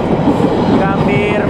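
An Argo Parahyangan passenger train with stainless-steel cars runs on the Gambir to Bandung route, a loud close rumble with rail noise and a brief high squeal, while a voice talks over it.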